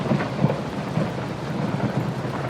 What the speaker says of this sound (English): I could hear that there was a raging thunderstorm stirring up on the outside.